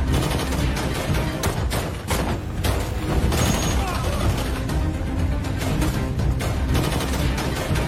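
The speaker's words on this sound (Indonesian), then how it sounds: "Saat baku tembak sedang terjadi" Gunfire erupts in a film shootout, with dense, overlapping bursts of shots and booms that keep going without a break, loud and close, with voices mixed into the battle noise.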